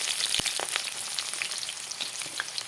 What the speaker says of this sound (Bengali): পেঁয়াজটা একটু লাল করে ভেজে নিই